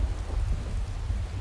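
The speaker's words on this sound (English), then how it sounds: "Can't tell with all the rain and the thunder and everything." Heavy rain and rumbling thunder in the video game Skyrim form a dense, steady low roar with hissing rainfall, heard alone without any talk.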